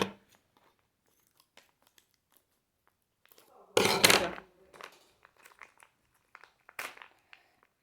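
Near-silent rustling gives way to a short, sharp rip of a plastic packet from a Smashers Mini Light-Up toy egg, then scattered soft crinkles.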